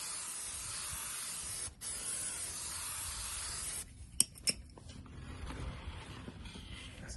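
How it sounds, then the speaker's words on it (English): Chain cleaner sprayed from an aerosol can onto a bike chain: a steady, close hissing spray lasting several seconds with a brief pause, then short sharp bursts and clicks. "we'll spray some cleaner on and see."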